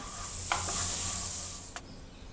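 Butter sizzles in a pan on two slices of sandwich bread, a bright, continuous hiss with two brief clicks of a utensil.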